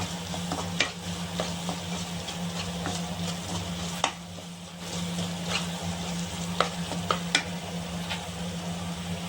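Chili powder and coriander powder sizzle steadily in a hot pan while a spoon stirs, with occasional light clinks and scrapes against the pan throughout.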